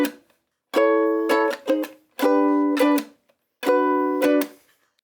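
Guitar strummed in a dotted quaver, semiquaver, rest rhythm: short bursts of bright chords, each followed by a quick muted hit and a gap, repeated three times, close and clean, with no talking.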